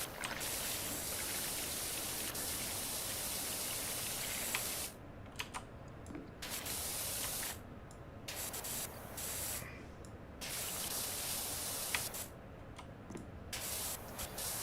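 A pressure washer spraying in the video game Power Wash Simulator, a steady hissing water jet that cuts out and resumes in repeated bursts, with faint keyboard clicks underneath.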